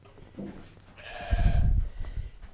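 A sheep with fawn fleece bleats once, a short nasal call close by, followed by a low rumbling thud in a quiet shearing setting.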